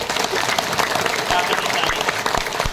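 A seminar audience in Ahmedabad applauds, dense steady clapping from many hands filling the room for a few seconds.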